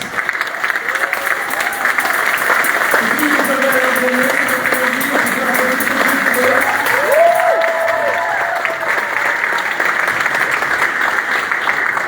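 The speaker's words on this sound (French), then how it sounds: "j'aimerais qu'on applaudisse tous ceux qui ont organisé, tous ceux qui nous ont aidés" Sustained applause from a crowd at a congress closing session, steady clapping throughout with some voices and cheering mixed in.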